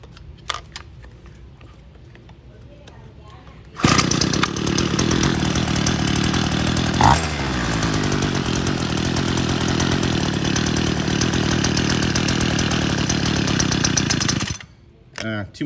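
A Homelite UT32650 string trimmer's small two-stroke engine, freshly adjusted at the carburetor, starts after quiet handling noises and runs loudly and steadily at a high buzzing pitch for about ten seconds before cutting off abruptly.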